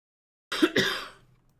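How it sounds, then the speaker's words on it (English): A single rough cough or throat-clear, close and fairly loud, with a short double burst that trails off into quiet. "Cough, cough, cough."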